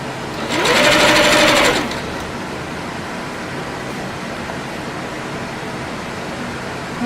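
Serger sewing machine stitching stretch fabric, a single loud, fast mechanical whir lasting about a second that rises, holds and stops, followed by quiet room tone.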